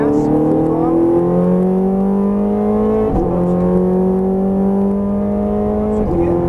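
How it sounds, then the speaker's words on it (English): A Ferrari F430 Scuderia engine at full throttle on a track, a loud, rising, harmonic-rich wail that climbs steadily and drops sharply at two quick upshifts, heard close from inside the car. "Squeezing on the gas. Full throttle."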